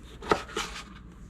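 A sharp Nakano knife cuts into stale bread, making one crisp crunch followed by a softer rasping stroke, close and fairly quiet.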